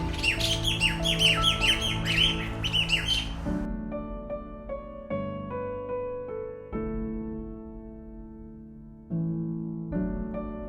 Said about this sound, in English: I saw a bird that I never seen before. It's the black-capped kingfisher